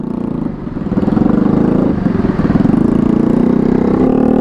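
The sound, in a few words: loud motorcycle exhaust, Mio Sporty scooter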